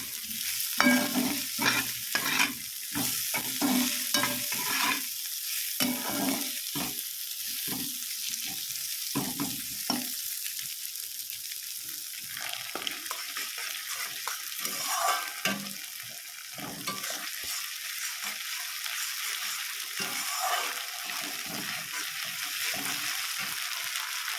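Bitter gourd fries in a pan with a steady crackling sizzle, punctuated by bursts of scraping and stirring in the first half, then a quieter even hiss, close by with no voices.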